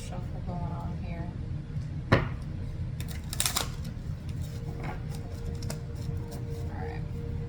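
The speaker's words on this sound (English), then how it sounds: "Shuffle going on here." Tarot cards riffle and slap in quick bursts, with a sharp snap and a flurry of shuffling, close by over a low steady hum.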